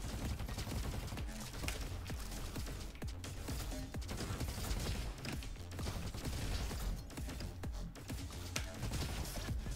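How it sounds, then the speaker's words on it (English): Allied turrets fire in the Roboquest video game, a dense, steady clatter of rapid shots running without pause under a busy, loud game soundscape. "Our little buddies are shooting those too"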